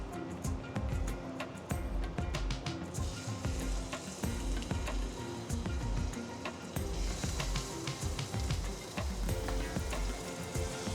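Olive oil sizzling loudly in a pan on the stove, a dense continuous crackle and hiss with rhythmic pulses of louder spattering throughout.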